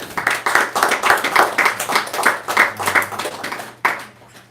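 Audience applause for Ramapad Maharaj after a lecture at ISKCON of Syracuse, NY: a small group clapping in uneven bursts for several seconds, fairly close, thinning to a few last claps at the end.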